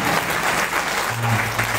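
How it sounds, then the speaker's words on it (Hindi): An audience at a Bhagwat katha religious gathering in Faridabad bursts into dense, steady applause, loud and close for the whole moment. "तुम लोग ताली बजाओ"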